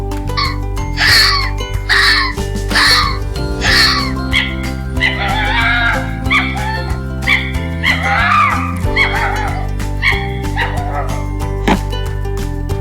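A fox gives a run of high yipping barks and whining cries, loud and repeated, over a steady musical background.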